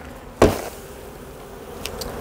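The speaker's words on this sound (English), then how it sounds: "We're going to knock the bees off into the tub here." Honey bees are knocked off a comb frame into a tub during a hive inspection, with one sharp bump followed by a low, soft buzzing and a couple of faint ticks.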